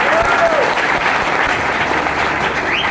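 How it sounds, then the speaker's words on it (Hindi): An audience claps loudly in honor of achievers at an anniversary award event, dense sustained applause filling the whole stretch, with faint voices and a whistle mixed in. "पर जोरदार ताली होनी चाहिए इनके सम्मान में।"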